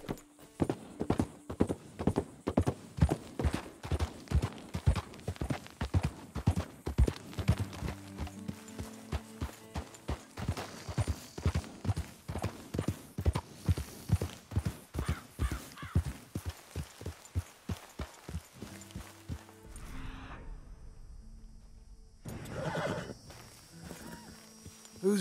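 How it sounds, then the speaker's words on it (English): In Red Dead Redemption 2, a horse's hooves clip-clop in a fast, steady, loud rhythm that gradually slows and fades toward the end, followed by a snort or whinny. "Who's a good horse?"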